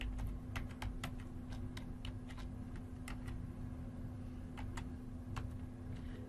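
Keys on a computer keyboard tap out a password as quick, irregular, light clicks over a steady electrical hum, heard close with no talking.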